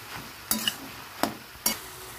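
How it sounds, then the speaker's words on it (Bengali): Bottle gourd greens with spices are stirred in a pan, with three or four sharp utensil scrapes and clacks over a soft, steady sizzle. "সব উপকরণ দিয়ে দিয়েছি, ভালো করে নেড়ে চেড়ে নেবো।"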